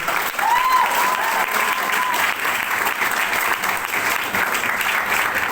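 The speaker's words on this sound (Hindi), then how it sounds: "एक बार जोरदार तालियों से स्वागत करेंगे।" Loud welcoming applause from a crowd of a company team gathering greeting new guests, a sustained thick roar of clapping that stays strong and even throughout, with a brief whistle near the start.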